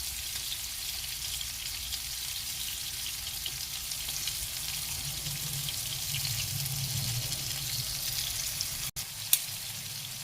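Prawns fry in a non-stick pan with a steady, close crackling sizzle that runs throughout, ending with a brief knock, with no talking.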